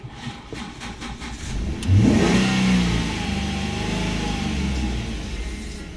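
A car engine running nearby, a steady mid-pitched idle with a brief rev that swells and then settles back into an even hum, heard alone with no talking.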